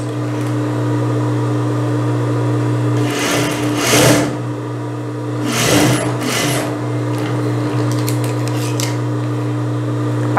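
A sewing machine runs steadily, humming, with two louder bursts of rapid stitching as gathering seams are sewn on a blouse, close and alone without talk.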